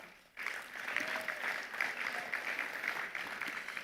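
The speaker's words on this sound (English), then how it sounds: "Please, a round of applause for her." Steady applause from an audience at an investment summit closing ceremony fills the whole stretch after a brief quiet start, moderately loud with no voices over it.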